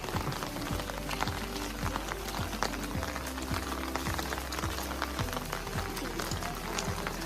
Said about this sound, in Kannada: ಮಳೆ ಅಂದ್ರೆ ಮಳೆ ಬರ್ಜರಿ ಮಳೆ